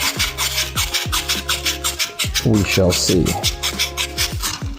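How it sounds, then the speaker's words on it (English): A part for a VW sandrail shift linkage is sanded by hand with 180 grit sandpaper in steady back-and-forth rasping strokes, loud and close, while someone talks over it. "This is 180 grit sandpaper."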